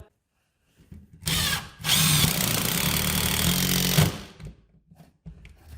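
A power drill drives 3.5-inch screws through pegboard into a wall stud, with a brief first burst and then a longer, loud, steady whir that stops abruptly.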